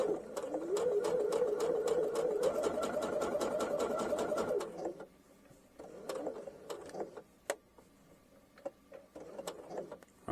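Sewing machine running a seam at a 5 mm stitch length with a 5/8 inch seam allowance: a steady rhythmic rattle of stitches for about five seconds, then stops, followed by scattered clicks and short bursts of handling.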